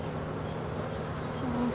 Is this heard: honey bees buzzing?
yes